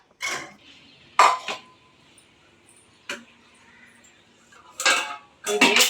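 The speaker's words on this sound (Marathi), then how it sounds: "पहिला मी नारळ खोबऱ्याचे तुकडे करून घेते बारीक बारीक" A knife chops through coconut in a few sharp, irregular strokes on a hard surface, with quiet pauses between the cuts.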